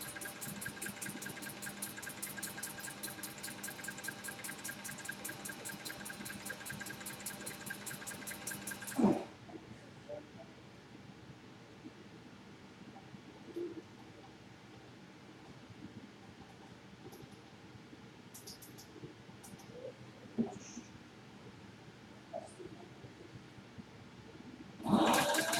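A sewing machine stitches a leather drawstring bag in one fast, steady, close-up whirring run that stops abruptly, then near-silence holds with faint handling noises and a brief clatter at the end.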